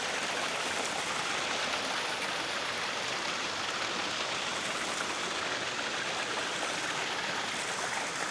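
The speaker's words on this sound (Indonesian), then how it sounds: "Jadi mengalir ya airnya." Water flows continuously past carved stone at a Mataram kingdom historical site, a dense, even rushing wash that stays steady and fairly close throughout, with no voices.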